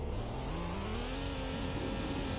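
A car engine in the driving game Greenville hums steadily, its pitch climbing slowly as it revs, loud and continuous with no one speaking.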